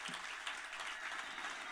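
A church congregation applauds, a dense, continuous patter of many hands clapping together at moderate volume, with no break across the short stretch.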